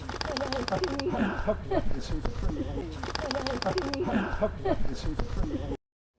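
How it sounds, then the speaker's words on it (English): A Wompoo fruit dove calls in the Tallebudgera Valley with repeated low, hollow cooing notes among other birdsong. A person talks over the calls much of the time. "A Wampu fruit dove."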